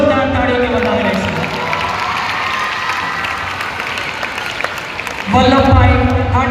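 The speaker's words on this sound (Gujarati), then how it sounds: "જોરદાર તાળીઓથી વધાવી રહેશે" A crowd at a school preschool rally event applauds and cheers loudly and continuously. Children's voices are mixed into the clapping, and it swells louder near the end.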